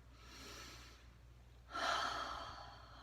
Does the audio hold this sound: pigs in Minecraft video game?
no